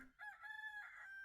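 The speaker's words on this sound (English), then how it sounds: "Rooster!" A rooster in the tavern video game Tavern Talk crows once, a clear, loud cock-a-doodle-doo standing alone without talk.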